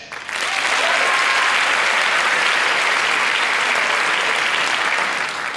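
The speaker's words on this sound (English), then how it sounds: "We would ask that you would hold your applause until the end" Sustained, loud applause from an audience at a community action assembly, rising quickly and holding steady as a dense wash of clapping for about five seconds.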